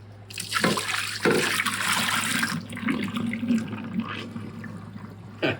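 Hot water mixed with OxiClean swished around inside a stained coffee pot, a loud sloshing, splashing wash close up in two surging bursts, then softer trickling and dribbling as the liquid settles.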